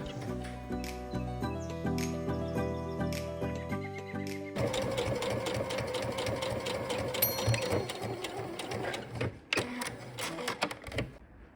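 A sewing machine topstitches around a fabric glasses case, whirring steadily in a close, continuous run before stopping, followed by a few light clicks and handling sounds.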